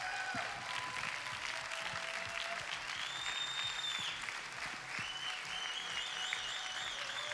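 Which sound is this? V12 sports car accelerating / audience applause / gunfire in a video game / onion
audience applause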